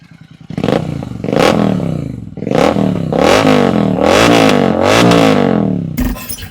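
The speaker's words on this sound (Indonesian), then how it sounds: "kita dengerin nih knalpotnya, karena yang ini udah ubahan knalpotnya jadi lebih ngeblar" A Royal Enfield Classic 650 motorcycle fitted with an aftermarket exhaust revs repeatedly, its throttle blipped in rising, throaty bursts that stay loud and close throughout, with no voices.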